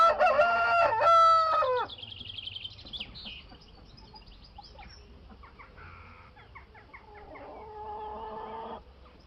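A rooster crows loudly and clearly at the start, used as a sound effect on a Hindi radio prank call show, followed by clucking and softer fowl calls with a faint background hum.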